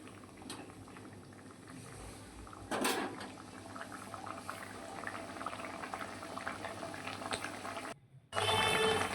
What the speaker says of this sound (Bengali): এবার একটু একটু ফুটবে